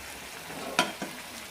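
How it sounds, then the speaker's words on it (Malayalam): Sliced onions frying with partly cooked chicken in a pan give a low steady sizzle, broken by one sharp scrape and a softer knock of a stirring spoon, close by and without voices. "സവാള ഈ രീതിയിൽ വഴറ്റിയെടുക്കണം"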